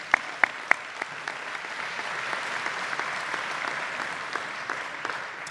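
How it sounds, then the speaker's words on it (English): A room of attendees at a chamber of commerce annual meeting applauds elected officials, starting with a few sharp separate claps and swelling into steady, moderately distant applause that carries on throughout. "So a round of applause for our elected officials."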